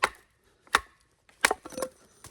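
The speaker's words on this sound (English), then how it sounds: "going to do a bit of batoning here" A large mid saber grind knife batoned through a log, giving four sharp woody chops spaced irregularly, close and loud with quiet gaps between strikes.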